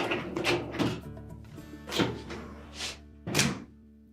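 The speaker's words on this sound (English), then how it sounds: "We'll simply set that rack back on the inner door, replace our cutlery basket" The lower rack of a Whirlpool dishwasher is set back onto the open inner door, producing several hollow thunks and rattling knocks spaced out over a few seconds, close and fairly loud.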